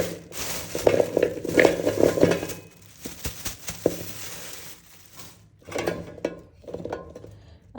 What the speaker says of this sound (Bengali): আমলাগুলো ধুয়ে নেবো ভালোভাবে